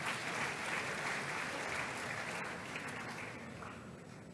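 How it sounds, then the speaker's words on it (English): Sustained audience applause fills a formal university anniversary ceremony, steady and dense throughout, welcoming the Catholic chaplain, a reverend father, before the closing prayer. "A round of applause for our Catholic chaplain."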